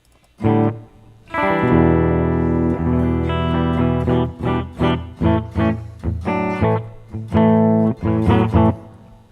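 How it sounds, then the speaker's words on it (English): A Kramer Baretta Special electric guitar with an effected, ringing tone plays sustained chords and then a series of choppy strums, notes trailing into reverb and delay. "I hear a little reverb. It's got a delay."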